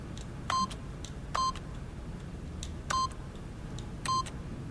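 Four short electronic keypad beeps, evenly spaced, as a four-digit PIN is entered on a keypad behind a boss's desk in the video game The Stanley Parable, heard alone over a low ambient hum.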